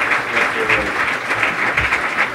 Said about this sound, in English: we're gonna clap and give him a big applause